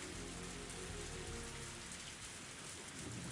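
Steady, dense rain pours down in the Higurashi When They Cry video game, a constant close hiss of drops on surfaces with no pauses and no voices.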